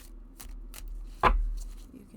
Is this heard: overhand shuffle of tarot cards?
yes